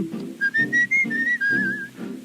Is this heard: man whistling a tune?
yes